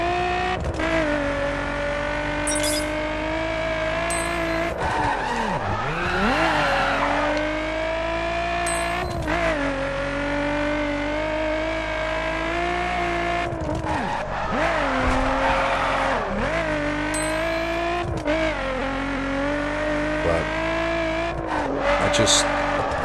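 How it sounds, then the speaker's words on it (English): A straight-six car engine in The Crew video game drones with a steady whine, rising and falling as it revs through shifts, with occasional tire squeals, and someone talks over it throughout. "the sound of that straight six just, it's a little bit whiny and annoying"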